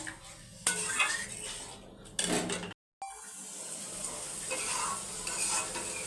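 Boiled jackfruit seeds and hot water go into a pan of frying dal with shrimp, giving sharp sizzling bursts, a ladle clattering against the pot, then a steady bubbling hiss.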